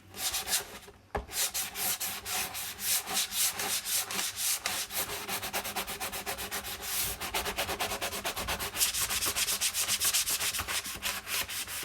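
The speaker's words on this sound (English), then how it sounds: "you just sand stuff a lot" Hand sanding along the edges of a repurposed wooden cabinet door to distress it: close, rapid back-and-forth scratchy strokes in a steady rhythm, continuing alone for nearly twelve seconds after a brief pause near the start.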